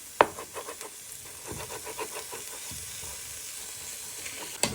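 Chicken pieces for a Moroccan chicken dish sizzle and fry in a pan, a steady close crackle with soft scraping and stirring, opened and closed by two sharp utensil knocks.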